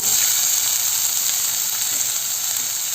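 Crushed shallots and garlic sizzle in hot coconut oil in a kadai, a loud, steady, close frying hiss that holds evenly for a few seconds with no talking.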